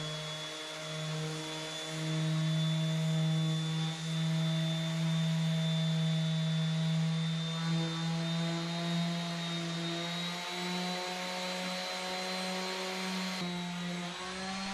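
A loud, steady droning whine from a power sander removing old finish from a countertop runs continuously, its pitch wavering slightly as it works.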